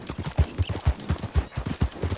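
Horse hooves clip-clop in a quick, steady trotting rhythm in Red Dead Redemption 2, close and clear with no talking.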